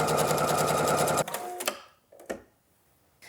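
A sewing machine understitching a pocket seam on a dress, a fast, steady mechanical whir of stitching for about a second, then it stops and a few soft clicks and handling noises follow.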